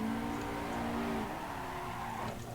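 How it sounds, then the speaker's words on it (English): A car drifting in Assetto Corsa on a kart track, tires squealing in a sustained tonal whine that bends and fades over the engine's steady drone, close and fairly loud, with no talk. "like I'm in drift, but I'm not using much counter steer"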